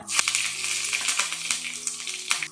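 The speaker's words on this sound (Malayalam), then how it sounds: "വെളിച്ചെണ്ണ ചൂടായി വരുമ്പോൾ കുറച്ച് കടുക് പിന്നെ വറ്റൽ മുളക് പിന്നെ കുറച്ച് കറിവേപ്പില" Mustard seeds, dried chillies and curry leaves fry in hot coconut oil for rasam, with a loud, close sizzle and crackling seed pops in quick, irregular bursts.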